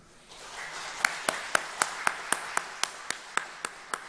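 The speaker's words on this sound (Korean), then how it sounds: "우리 큰 박수로 인사할 때 격려해 주시기 바랍니다" Church congregation clapping during a Sunday worship service: a steady, evenly spaced series of fairly quiet claps keeping a regular beat against a soft room background.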